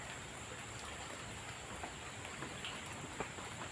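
Soft, steady rain patters continuously in the background, faint and even with occasional light drops.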